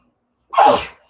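One short, forceful sneeze, close and clear, in a quiet setting.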